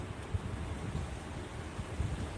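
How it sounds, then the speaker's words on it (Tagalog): Steady wind rumbles and buffets a microphone, low and continuous, with a couple of brief gusty thumps and no voices. "Mahangin sa Pinas"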